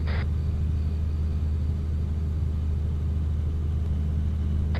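A military vehicle engine in the video game Arma 3 idles with a steady low rumble throughout, loud and close, with a brief higher rattle at the start.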